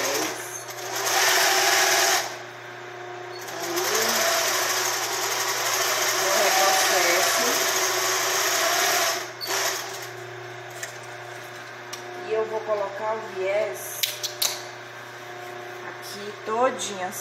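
A sewing machine stitches bias tape onto an old t-shirt made into pet clothes, running in bursts of steady whirring with pauses between, while someone talks over and between the runs.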